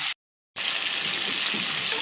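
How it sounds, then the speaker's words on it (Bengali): Chicken pieces fry in hot mustard oil in a kadai, giving a dense, bright sizzle. A brief silent gap interrupts it near the start, then it continues steady and close. "এবার আমি চিকেনের পিসগুলো একটু ভাজা ভাজা করে নিচ্ছি"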